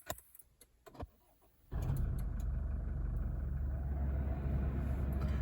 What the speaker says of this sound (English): You can listen the startup of that turbo diesel engine.